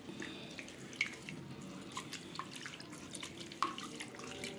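Water splashes and drips faintly as soaked rice for rice payasam is rinsed, with a couple of louder clinks from the bowl.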